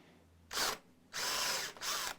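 A power drill bores a 10 millimeter hole through the top of a Yamaha EG112 electric guitar body, three whining bursts, one short, then a longer run, then another, close and loud with brief pauses between.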